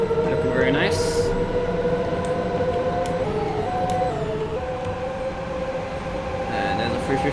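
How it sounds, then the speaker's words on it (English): A freight train rumbles past in Train Simulator 2020 along the London Euston to Watford Junction line, a loud continuous rolling drone with tonal whines and brief high squeals layered on top. "Oh, we've got a freight train there."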